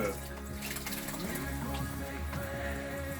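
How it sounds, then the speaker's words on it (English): Water running steadily from a faucet into a sink during a baby bird's bath, a continuous close splashing stream with faint background sounds. "Now we teach him how to use the faucet, and he does it himself."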